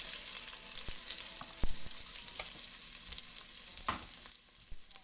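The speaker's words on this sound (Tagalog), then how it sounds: "Ginisa ko muna yung sibuyas" Onions sautéing in a pan for pakbet, a soft continuous sizzle broken by occasional clinks and scrapes of a utensil stirring, fairly quiet and close, with no talking.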